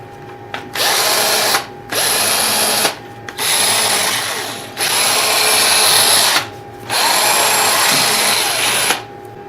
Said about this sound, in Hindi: इस ड्रिल मशीन के जरिए अब हम किसी चीज को सुराख करके चेक करते हैं।